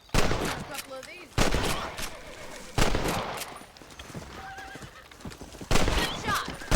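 Rifle shots at rabbits in the Red Dead Redemption video game: several loud, sharp cracks spaced a second or more apart, with horse neighing and clip-clopping hooves between them.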